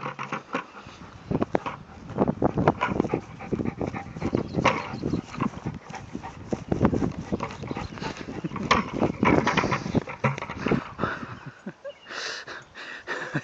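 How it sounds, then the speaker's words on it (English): A Labrador or Great Dane pants and snuffles close by in quick, uneven breaths, with a voice speaking over it at times. "Is that a happy dog?"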